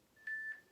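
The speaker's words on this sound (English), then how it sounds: "Pause that beeping sound." A single short electronic beep sounds during a loop band full-body workout, a clean, clear tone lasting about a quarter second against a quiet background.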